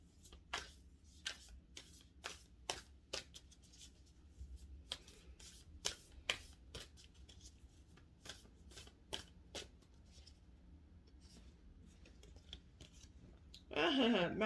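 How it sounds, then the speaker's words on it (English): Oracle cards are shuffled by hand in a quiet room, giving a series of crisp, rapid riffling and slapping bursts repeated at a steady rhythm, close and fairly soft, with a louder rustle at the end. "I'm going to shuffle these oracle cards"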